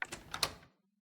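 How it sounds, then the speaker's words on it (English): A door opening in the courtroom game Judgesim: a short burst of clicks and a creaking latch rattle lasting under a second, close and clear, then silence. "I'm gonna open the door."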